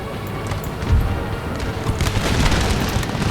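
Cannons firing in the video game Empire: Total War, a dense rolling barrage of deep booms and blasts overlapping one another, loud and sustained across the battlefield.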